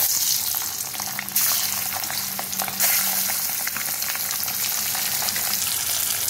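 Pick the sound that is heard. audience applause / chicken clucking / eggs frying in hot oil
eggs frying in hot oil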